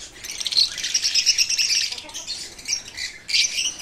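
Busy, high-pitched chirping from several lovebirds, nearly continuous with short pauses, fairly close and moderately loud.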